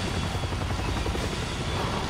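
Helicopter rotor chop and engine roar in the video game Resident Evil 6, loud and steady throughout with no voices.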